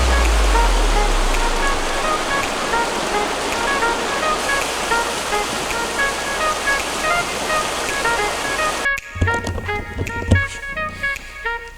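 A river of crystal-clear water rushing loudly and steadily nearby, a dense continuous wash of flowing water that cuts off abruptly near the end, leaving quieter sounds.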